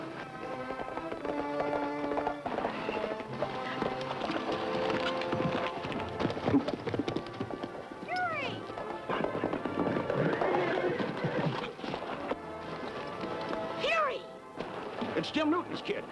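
Several horses neigh and whinny in an outdoor scene from a 1950s western TV series, with hoof clatter underneath and rain-like noise, while voices talk over much of the commotion.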